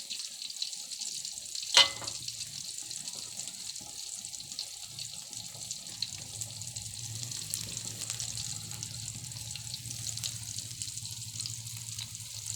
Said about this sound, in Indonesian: aku sek goreng tempe